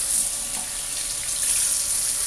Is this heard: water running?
yes